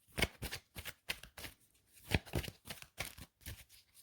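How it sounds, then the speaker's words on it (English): Tarot cards shuffled by hand in a run of quick riffling bursts, close and fairly quiet, with short pauses between the flurries and no talking. "I'm going to just do another shuffle"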